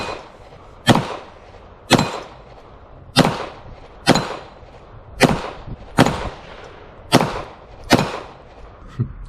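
Gunshots from a SIG P320 X5 Legion 9mm pistol on a shooting range, eight sharp loud reports spaced about a second apart, each with a short decaying echo.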